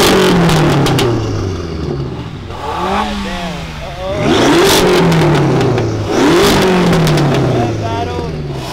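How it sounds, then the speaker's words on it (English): Several car engines, including a BMW M5 and a Toyota Supra, rev hard in repeated bursts, rising and falling pitches overlapping nearby, with loud roaring peaks. "They start revving and doing all kinds of stuff."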